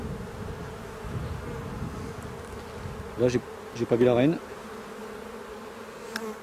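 Honeybees buzz in a continuous low drone around an open hive frame during a spring hive inspection, with a few brief louder swells as bees pass close and someone speaking quietly in French.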